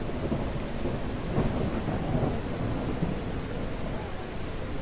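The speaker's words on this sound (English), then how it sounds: "It is raining" Heavy rain pours steadily with low rolling thunder rumbling underneath, a dense, continuous storm wash with no voices.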